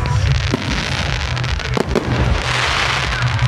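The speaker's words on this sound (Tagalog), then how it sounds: "fireworks." New Year fireworks crackle and pop in dense bursts with sharp bangs, a loud, continuous barrage close by, with distant cheering mixed in.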